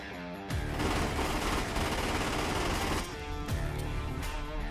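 Gunfire from a shootout in the action film The Raid: Berandal, a loud, dense burst of rapid automatic shots lasting a few seconds between brief pauses, heard over a film soundtrack.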